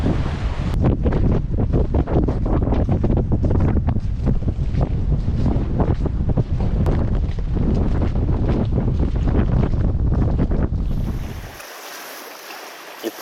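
A boat crosses open sea off the Philippines with strong wind buffeting the microphone and a steady roar of engine and water, loud and constant before cutting to near quiet at the end.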